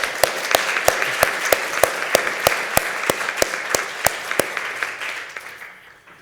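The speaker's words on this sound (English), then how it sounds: "Let's applaud her, please." A small audience claps at an awards ceremony, a sparse, steady patter of distinct hand claps that holds evenly for a few seconds before thinning out and fading away near the end.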